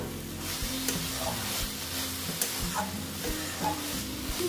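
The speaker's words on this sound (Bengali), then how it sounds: "দিয়ে অল্প একটু নেড়ে নিলাম" Banana flower curry (mochar ghonto) is stirred in a frying pan, a close, steady sizzle with repeated scraping strokes of the spatula at an even rhythm.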